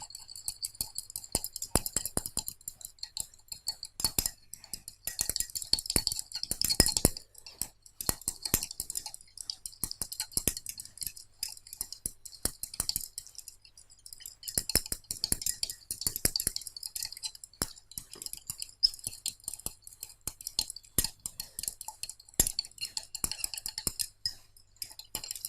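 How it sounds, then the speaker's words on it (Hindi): A spatula clinks and scrapes against a glass while stirring salt into water, with light intermittent taps and clicks and soft rustling, close and fairly quiet. "अब मैं स्पैचुला की हेल्प से थोड़ा और नमक डालूंगी। इसे फिर से स्टेयर करेंगे।"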